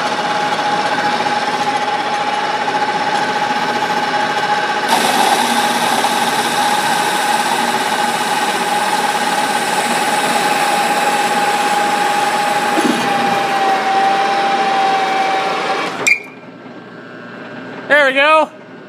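Metal lathe spinning at home while friction welding metal, a steady loud mechanical whir and hum with a rising whine that holds for about sixteen seconds, then cuts off abruptly into a brief knock and a few squeaks.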